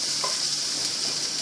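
Chicken with lemongrass sizzles steadily in a hot pan during a stir fry, a constant close hiss of frying with faint stirring touches and no talking.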